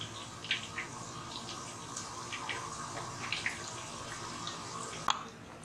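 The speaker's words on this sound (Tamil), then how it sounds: "இப்போ இது பாயில் ஆகுது." Fish simmering in a pot of water on a stove, giving a steady low bubbling wash with scattered small pops and drips, and one sharper click near the end, with no talk.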